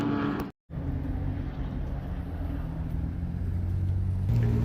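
An Acura NSX sports car sweeps by on the Laguna Seca race track, its engine a moderately distant, steady drone with a brief dropout early on and a rising tone near the end.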